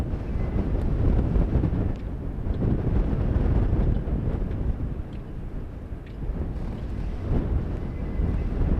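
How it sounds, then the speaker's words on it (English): Gusty wind buffets the microphone outdoors at a high school baseball game, a steady low rumble with louder surges throughout, no clear voices. "Getting the wind really picking up again."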